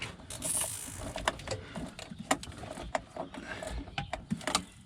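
A spade connector being tightened down in a small car fuse and relay box on a K20-swapped EF hatch, giving close, quiet, irregular clicks and ratcheting taps.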